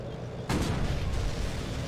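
Gunfire in the video game Call of Duty 2 Big Red One: one sudden loud blast cuts in after a quiet start and fades into a rumbling, booming tail.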